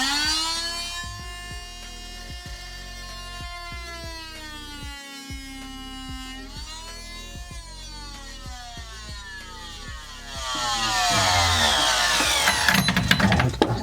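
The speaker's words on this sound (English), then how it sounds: "So I'm using the oscillating saw." Oscillating saw cutting inside a sailboat during a refit, a steady high whine with shifting pitch that grows harsher and louder near the end as the blade bites, close and continuous.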